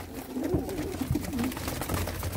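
Pigeons gathered for sale keep up a low, dense murmur of overlapping coos nearby, with a few short, sharper calls and faint knocks over the steady rolling background.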